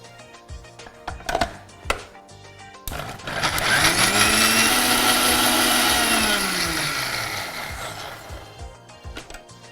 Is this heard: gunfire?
no